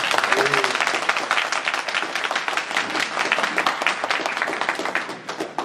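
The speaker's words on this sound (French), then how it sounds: "Donc je pense qu'on applaudira." Dense applause from a conference audience in Paris fills the whole stretch, many hands clapping steadily and loudly, tapering slightly near the end, with a brief voice audible early on.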